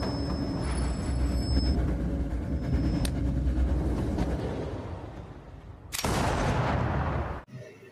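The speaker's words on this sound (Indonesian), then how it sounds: "terdengar suara tembakan dan season 1 pun selesai" Gunshots ring out over a loud, steady rumble: one sharp crack partway through, then a heavy blast that lingers before cutting off abruptly.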